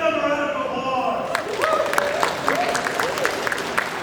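Audience applause at a charity auction, a crowd clapping at moderate volume after a sale, with people talking underneath.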